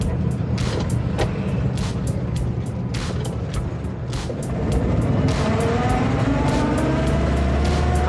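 A Land Rover Series being driven on the road, its engine and drivetrain rumbling loud and close with steady road noise, repeated clunks and rattles throughout, and rising engine tones as it pulls.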